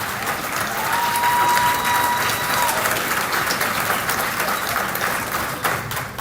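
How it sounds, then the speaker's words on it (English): Loud audience applause and clapping at a gathering in Nairobi, a crowd clapping together in a dense, continuous roar that holds steady for about six seconds. "Y'all better clap loud."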